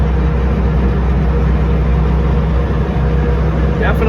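A Steiger Bearcat tractor, one with a failed clutch, idles along a road with a steady low diesel rumble throughout, loud and close, with a faint squeak near the end.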